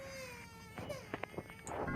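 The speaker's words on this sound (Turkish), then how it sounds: "bebek ağlama sesi geliyor" A baby cries in The Baby in Yellow horror game, a close, clear wailing cry with a wavering pitch, rising into short sobbing bursts near the end.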